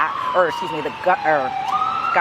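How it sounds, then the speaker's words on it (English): Ambulance sirens wail outside a courthouse, a loud rising and falling electronic tone that continues under a person talking nearby. "There's a lot of ambulances going on, so I'm hoping that everyone can kind of still hear me"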